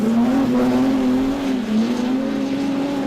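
Production sedans racing at Maryborough Speedway during a national title heat, with a loud, steady engine drone that holds close and continuous, rising and dipping slightly in pitch as cars power around the track.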